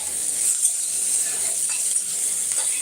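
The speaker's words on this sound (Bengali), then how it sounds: "এখন আমি পেঁয়াজটা আর কাঁচা লঙ্কাটা ভেজে নিচ্ছি" Onion and green chilli frying in a small amount of oil, a steady bright sizzle running throughout with faint clinks of a utensil stirring the pan, no voices.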